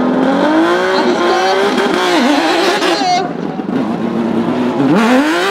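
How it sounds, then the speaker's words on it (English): A race car accelerates hard up the Goodwood Festival of Speed hillclimb in 2021, its loud engine note sweeping up and down through gear changes as it passes close by, with a brief sharp rise near the end. "Just going to let Martin Gould rip up through there."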